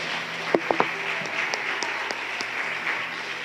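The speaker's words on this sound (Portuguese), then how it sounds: "Podemos aplaudir o Senhor com alegria, toda a igreja?" A church congregation applauds together in praise during an evening service, a steady wash of clapping with a few sharp, close claps standing out near the start, with no voices over it.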